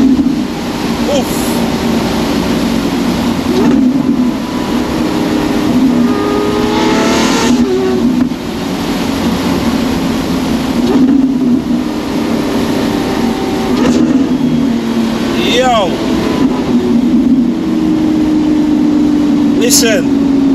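A straight-piped Lamborghini Aventador SVJ Roadster engine revs and roars repeatedly, rising and falling with gear changes, loud and close, while people talk over it.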